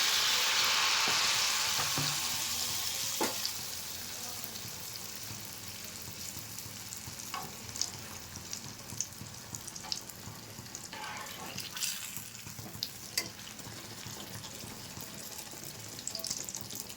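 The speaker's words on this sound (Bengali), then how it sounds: "বন্ধুরা, আমি সবগুলো ভেজে নিয়ে আপনাদের সঙ্গে শেয়ার করব।" Malpua batter fries in hot oil in a pan, with a loud steady sizzle at the start that settles into softer bubbling and a few clinks and scrapes. No voices are heard.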